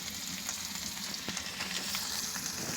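Fish sizzling steadily in hot oil for a street-style fish sandwich, a continuous close crackle and hiss with no one talking.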